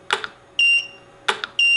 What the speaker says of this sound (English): Now I've got this annoying beep every time it's recycled